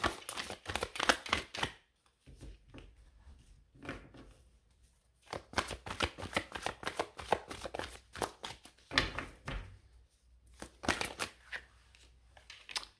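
Tarot cards being shuffled close by, soft rapid riffling and flicking bursts in several separate runs with short pauses between them, no talking.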